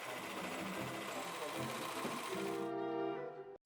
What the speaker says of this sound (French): On termine la préparation de la pièce du devant en surjetant les grands côtés.